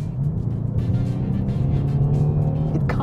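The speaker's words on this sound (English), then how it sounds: "You're getting artificial noises played through the car's speakers." A 2019 BMW 8 Series accelerating from inside the cabin, its artificial V8-like engine note played through the car's speakers as a steady, loud, rising drone.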